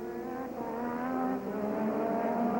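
Formula 1 race cars roar around the circuit at the 1986 Canadian Grand Prix with a steady high-pitched engine wail, heard as a distant, continuous broadcast racing sound.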